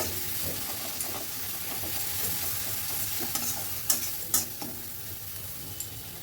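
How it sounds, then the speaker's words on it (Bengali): Fenugreek leaves with cumin and chili powder frying in a pan while being stirred continuously, a steady close sizzle with a few light utensil scrapes and taps toward the end. "এবারে আমি সব কিছু ভালো করে মিশিয়ে নিচ্ছি। অনবরত কিন্তু নাড়তে হবে"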